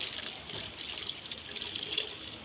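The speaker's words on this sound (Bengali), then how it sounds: "খালি এই বাসন ধুচ্ছি আমি" Dishes being washed under a running kitchen tap, a steady gushing splash of water that stays fairly quiet and even, with faint clinks of utensils.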